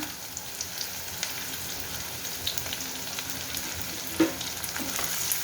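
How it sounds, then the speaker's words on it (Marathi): Chopped onion fries in hot oil right after mustard seeds have crackled, for a cauliflower and pea mixed vegetable dish: a continuous close sizzle with a few soft stirring clicks and one sharper tap near the end. "मोहरी तडतडली कांदा टाकायचा"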